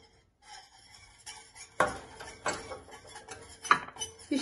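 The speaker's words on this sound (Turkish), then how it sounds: "Önce güzel bir şekilde yumurtamızla sütümüzü karıştırıyoruz." Egg and milk stirred together in a bowl for a Malaga pasta batter, with irregular close clacks and scrapes of the utensil against the bowl, fairly quiet, with no voices.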